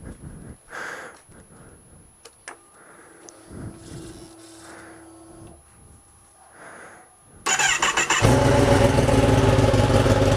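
A motorbike exhaust with its butterfly valve removed starts after quiet handling noises and breathing, then barks and settles into a loud, raw, rumbling idle for the last few seconds.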